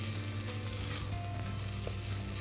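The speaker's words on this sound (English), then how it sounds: "we fry it, we saute it like for a minute" Spices sizzle and fry in hot fat for Indian dal makhani, a steady close crackling hiss with no talking.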